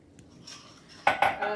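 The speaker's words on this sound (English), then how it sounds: "I use a round-ended knife for mixing the dry ingredients together" Dry soda bread ingredients stirred in a bowl with a round-ended knife: faint scraping, then a few loud clinks and scrapes of metal against the bowl close up.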